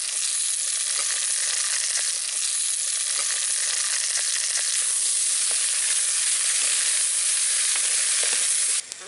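Dried vathal, mango vathal among them, sautéing in a pan for vatha kuzhambu, giving a steady, fairly loud sizzle that runs unbroken throughout with small crackles and no talk.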